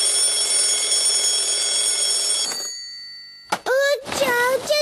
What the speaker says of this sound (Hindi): अलार्म भी बज रहा है